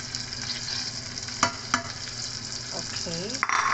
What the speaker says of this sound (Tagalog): I-fry lang natin ito siya guys, bago yung rice